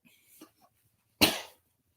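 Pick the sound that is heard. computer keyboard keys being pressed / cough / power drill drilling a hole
cough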